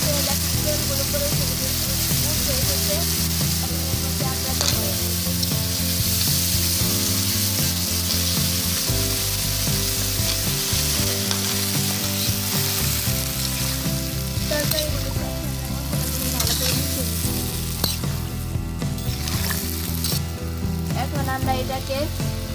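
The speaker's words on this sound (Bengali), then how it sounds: "এখন এগুলোকে এক মিনিটের মতো কষিয়ে নিচ্ছি।" Vegetables fry with panch phoron in hot oil for a Bengali rui fish, cauliflower, potato and bean dish, a loud, continuous close sizzle with occasional stirring scrapes, no talk.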